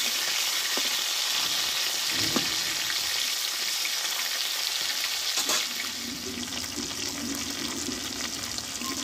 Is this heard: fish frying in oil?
yes